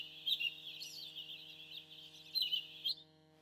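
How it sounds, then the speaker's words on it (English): A General MIDI bird tweet patch plays from an Akai MPK Mini Play MK3 keyboard, bright synthetic chirps trilling in quick bursts over a faint steady electronic hum, then cutting off abruptly. "1, 2, 4, bird tweet."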